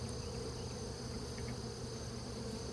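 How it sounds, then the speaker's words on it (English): Honey bees hum steadily at an open single-box hive during a brood inspection, a dense, continuous drone that holds close and even throughout with no voices. "We got a lot of bees."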